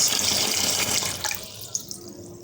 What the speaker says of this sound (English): now to pour new water inside our beans